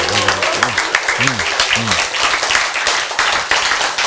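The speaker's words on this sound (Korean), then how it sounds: "여러분의 박수 소리가 확실히 커졌어." Audience applause rising and continuing steadily through the whole stretch, with brief sung or spoken tones from a voice near the start.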